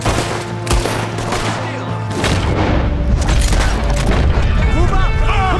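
Gunfire in Red Dead Redemption 2: loud, dense volleys of shots and booms go on throughout, with a rifleman firing from a tower, and voices talk over the shooting.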